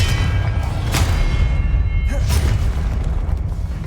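The Confringo blasting spell in Hogwarts Legacy goes off in two heavy booms a second or so apart, each a sharp burst over a constant low rumble of game ambience.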